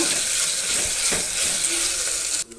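Ginger garlic paste fries in a pan as it is stirred, giving a steady broadband sizzle with a few scraping stirs, close and fairly loud, cutting off abruptly near the end.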